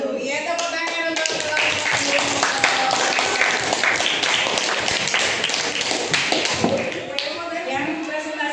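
A classroom audience claps for student presenters after a group presentation, with dense, steady clapping and tapping lasting several seconds while voices murmur underneath.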